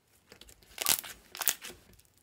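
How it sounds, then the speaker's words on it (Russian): Two crisp crunching, crackling squishes close up as a thick, dense-textured crunchy slime with sprinkles is squeezed, with quiet fiddling between them. "Он очень круто кликает, тянется. И хрустит, у него очень плотная текстура."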